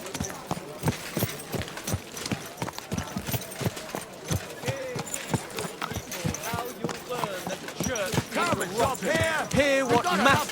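Rhythmic hoof clip-clops of a horse on a hard surface in Kingdom Come: Deliverance II, steady and fairly close, with people talking over them and rising music toward the end.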